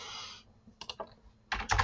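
Close, quiet keystrokes on a computer keyboard come in two short clusters separated by a pause, with no talking.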